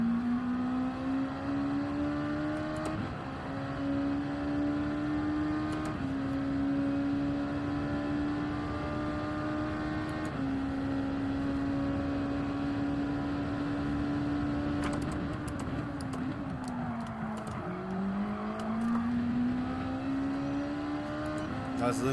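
Race car engine in the video game Gran Turismo 7 during a hilly, twisty time trial, a steady loud drone with shifts in pitch as the car accelerates and slows under braking, playing continuously.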